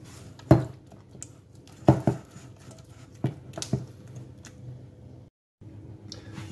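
Beaten egg is worked into choux pastry dough with a spoon, making a few sharp knocks and scrapes against the bowl and soft sticky mixing sounds in between, close and quiet, with no talking.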